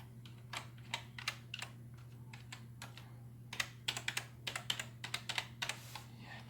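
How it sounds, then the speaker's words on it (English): Sparse one-handed typing on a computer keyboard during setup of an old Windows system, irregular close key clicks that quicken into a denser burst in the second half, over a steady low electrical hum. "I can't type with one hand."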